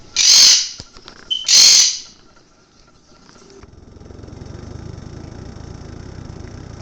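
A Quaker parrot gives two loud, harsh squawks in quick succession, close by, followed by a low steady rumble like an idling engine.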